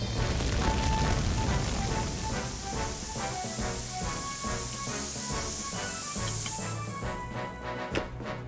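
A fire being put out in a cartoon, with a sustained spray-and-hiss effect under busy music, loud throughout and fading toward the end.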